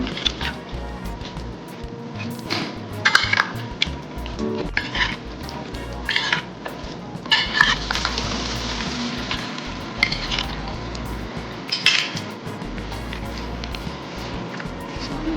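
Rui fish kabab mixture is worked together with sour yogurt in a bowl, making continuous close scraping, squelching and clinking of utensil against bowl with busy kitchen clatter, and no talking.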